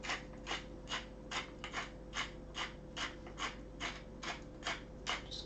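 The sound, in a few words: grinding pink Himalayan salt in a grinder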